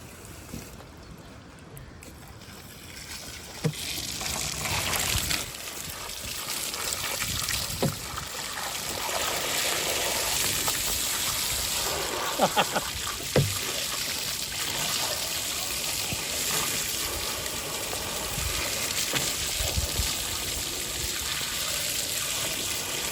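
Fish is rinsed under running water: a continuous close splashing flow lasts throughout, with occasional brief knocks and sloshes as the fish is handled, and no voices.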